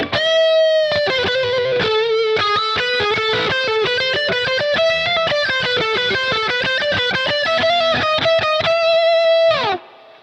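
Electric guitar played through a Bias FX 2 rock amp-sim preset with reverb, a distorted lead line of quick picked notes and bends that runs steadily for about ten seconds before stopping.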